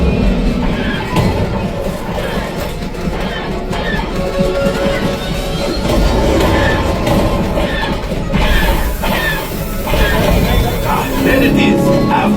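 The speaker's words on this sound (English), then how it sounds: "There it is! After that train!" A theme park ride's simulated train rumbles and clatters steadily on the tracks, loud and close, with voices shouting over the noise.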